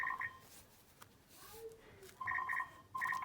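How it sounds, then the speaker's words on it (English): A telephone ringing in a room, several short double trills in repeated bursts, fairly faint and distant, under quiet talk and room noise. "Hoping someone's going to get the phone in a second."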